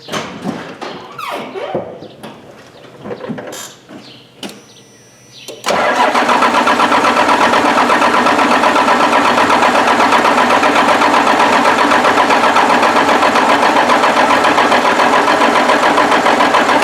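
A 1st-generation Dodge Cummins diesel cranks with scattered clatter and pops, then catches around the six-second mark and settles into a loud, steady idle that runs to the end without any talk.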